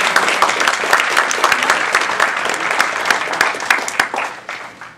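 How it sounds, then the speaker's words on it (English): An audience at a Toastmasters North Division contest gives its division director a lively round of applause: steady, close clapping from many hands that fades away over the final second. "Let's have a round of applause for Beth."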